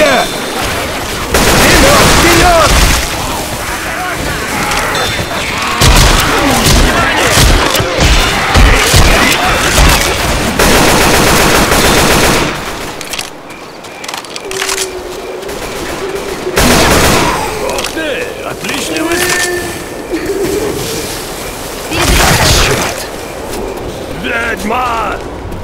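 Gunfire in the video game Left 4 Dead 2 comes in dense, loud bursts of repeated shots with crashes and mechanical clatter, broken by a quieter stretch midway, while voices shout over the action.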